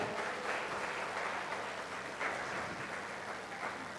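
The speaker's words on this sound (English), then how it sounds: "Please give a round of applause for her." Conference attendees at an English language teaching event give a presenter a round of applause, a steady, moderately loud wash of clapping from a crowd lasting throughout.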